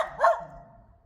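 A single short bark or yip from a nearby dog, fairly soft, followed by a faint trailing whine, with no talking.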